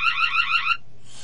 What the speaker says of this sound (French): Cette caméra, on peut éventuellement parler à distance à des gens, voire faire un son d'alarme.